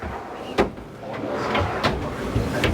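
Deep drawers in a camper van kitchen slide open and shut, giving a few soft thuds and rumbles at intervals over a quiet room background.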